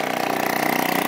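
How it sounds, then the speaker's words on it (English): A moped engine runs steadily close by, a loud, even buzzing drone with a fast regular pulse, heard alone for about a second while a free scooter is loaded into a bus. "Moped 3, moped goes."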